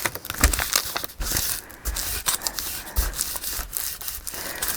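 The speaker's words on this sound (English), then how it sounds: "Let's fold this up and get it out of the way." Sheets of paper being folded and handled while cleaning up after cutting apart a vintage memories collage board, giving close, continuous crinkling and rubbing with brief crisp rustles and no talk.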